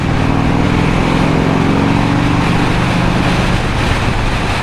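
A 1984 Harley-Davidson Tour Glide motorcycle riding on a New York city road, a loud constant engine drone mixed with heavy wind rush, steady and close throughout with no speech.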